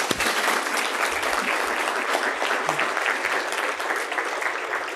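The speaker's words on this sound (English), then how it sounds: "Big round of applause for Ben and Will." Enthusiastic audience applause at an energy storage summit, a dense, even wash of many hands clapping continuously for the whole stretch at moderate loudness, with no talk.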